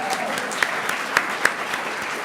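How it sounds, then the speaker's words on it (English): Audience applause at a library author talk, a steady wash of clapping with a few sharper claps standing out, moderately loud and continuous throughout. "let's give her a round of applause"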